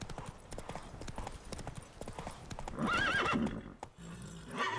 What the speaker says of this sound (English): Yeah, Roach, you most beautiful horse I have ever seen.